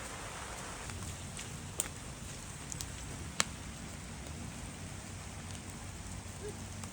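Rain falls as a soft, steady hiss throughout, with a few faint sharper drips and taps standing out at moments, heard alone and fairly quiet.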